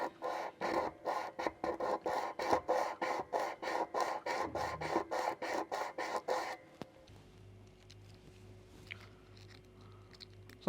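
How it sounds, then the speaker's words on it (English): Wooden sitar bridge sanded by hand to shape its jawari curve: a fast, even series of close, raspy scraping strokes for several seconds, then the strokes stop and only faint handling noise and a low hum remain. "after you're satisfied with the sanding of the first portion"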